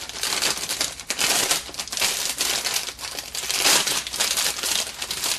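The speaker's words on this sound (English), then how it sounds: "Let's pop open the plastic baggies." Small plastic baggies from a toy model kit are torn and crinkled open by hand, loud, close crackling rustles in uneven bursts throughout, with no talking.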